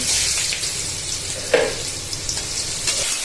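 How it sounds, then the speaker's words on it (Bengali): Chopped onion and green chilli fry in oil in a pan with a bright, continuous sizzle, close by, broken by a couple of stirring scrapes. "পেঁয়াজ কুচি ভাজা হয়ে গেল"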